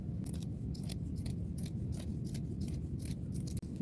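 Scissors snipping through the sleeve of an old dress along the shoulder, a run of crisp, evenly spaced cuts close up with a low steady rumble beneath.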